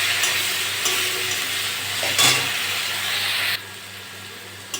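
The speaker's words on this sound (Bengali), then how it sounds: "আদা রসুনটা দিয়ে নেড়ে চেড়ে নিয়েছি।" Ginger garlic paste frying with onions in a pan, a continuous close hiss of sizzling oil with occasional stirring scrapes, the sizzle dropping noticeably quieter near the end, no speech.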